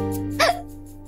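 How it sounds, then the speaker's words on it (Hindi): A woman's single short hiccup in an indoor scene from a Hindi TV drama serial, a brief close gulp over a steady background hum. "ये तो मैं भूख से हिचकी आ रही है ना"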